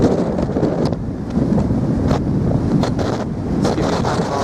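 Strong wind buffets the summit of the Malvern Hills, a loud continuous roar with heavy rumbling gusts hitting the microphone.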